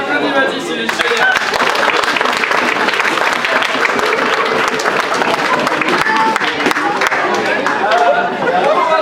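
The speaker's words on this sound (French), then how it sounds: "Et on applaudit Mathis, il est génial." An audience at a storytelling show applauds a boy named Mathis with dense, steady clapping that runs the full nine seconds, mixed with lively crowd chatter and voices underneath.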